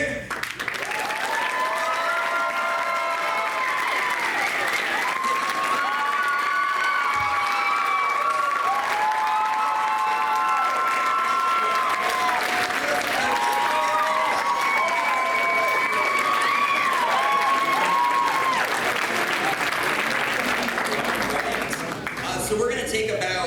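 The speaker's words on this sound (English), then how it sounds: "Let's give a warm round of applause for all the rest of our panelists." A large convention audience at a horror-themed fan event claps and cheers steadily for arriving panelists, sustained applause with whoops and shouted voices throughout, loud and close, fading only at the very end.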